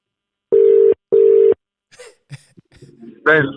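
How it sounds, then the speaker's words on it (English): Two loud, steady electronic telephone ringing-tone bursts, each about half a second, close together, followed by faint scattered talk and noises. "Phillip, better answer that phone."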